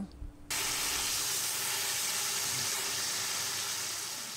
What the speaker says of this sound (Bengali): মাছটাকে আমি এপিট ওপিট করে ভালোভাবে ভেজে নামিয়ে নিব